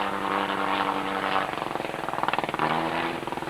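Radio-controlled model World War I aircraft, including a Fokker triplane, fly overhead at an RC aero jamboree, their small engines buzzing and droning steadily, with a pulsing beat as the planes pass at moderate distance.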